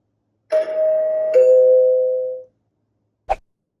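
A single two-tone ding-dong from an Aqara G4 video doorbell chime, loud and clean with a lingering tail, then a brief soft click after a pause.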